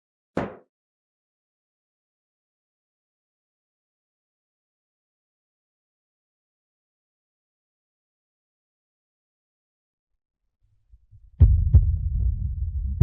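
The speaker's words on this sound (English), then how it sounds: "Why is my heart beating so fast?" A heartbeat sound effect in a romantic drama about a forced marriage enters after a long silence as a loud, low, throbbing pulse in the final seconds.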